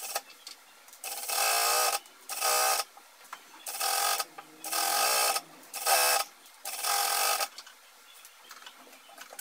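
Sewing machine stitching the back crotch seams of pyjama pants, right sides together, in about seven bursts of steady running, each a second or so long, separated by short pauses; close and clear, with no talk.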